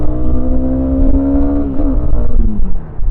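Honda CB300R motorcycle engine idling and revving close by, a steady loud rumble that rises and falls in pitch through several short throttle blips.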